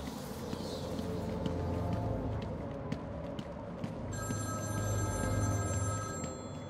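Telephone ringing inside a church setting in the video game Batman: Return to Arkham City, a steady electronic ring rising over a low rumbling game ambience, clearest in the final seconds.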